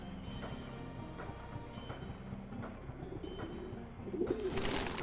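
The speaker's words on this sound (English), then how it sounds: "Fucking Dreamcast birds." Pigeons cooing in the Shenmue video game on Dreamcast, soft repeated coos looping in the background, with a rumbling swell of noise near the end.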